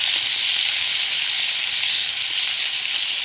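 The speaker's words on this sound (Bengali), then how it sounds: "দেখো এক এক করে আমি ভেজে নিচ্ছি মাছগুলো" Rohu fish, coated in turmeric and chili, frying one piece at a time on a clay stove, giving a steady, loud, dense sizzle and hiss that carries on without a break.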